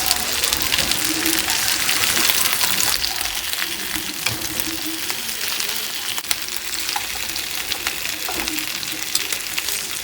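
Tomatoes, tomatillos and onions cook in a pan for homemade mole, giving a steady, dense, rain-like sizzle with a few faint clicks of turning, close and continuous.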